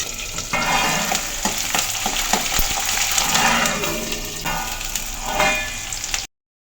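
Green chilies and urad dal fry in hot, spattering oil with a dense, continuous crackle and sizzle, broken by scattered sharp pops and utensil scrapes close by before the sound cuts off.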